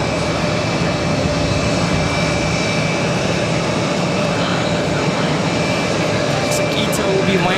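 A Southwest jet airliner takes off from runway 22 right at Boston Logan, its engines a loud, steady, broadband roar that fills the whole stretch without a break.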